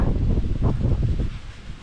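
Strong wind gusting outdoors in a Hawaiian garden, a steady loud rush with rustling leaves and microphone buffeting throughout.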